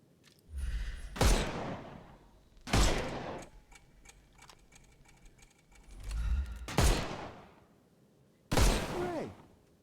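Gunfire in Sherlock Holmes Chapter One blasts the armor off enemies in four loud, spaced bursts, each one followed by a fading tail, with quiet ticking and clicking in the gaps between shots.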